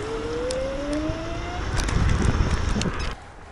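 A Kaabo Mantis Dual Pro electric scooter, with turbo and dual-motor mode engaged, surges forward on a road out of Sofia. A rising electric motor whine is heard under loud wind rush that swells, then drops off near the end.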